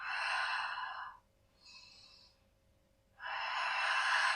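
Slow exhalations during a Pilates ab and arm workout with a ball: two long, breathy out-breaths framing a softer, shorter breath, close and clear with no talking.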